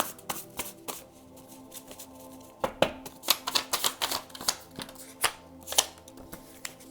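Tarot cards are shuffled and pulled by hand, giving dense papery riffles and sharp flicks in uneven bursts, close and fairly loud, with no talk.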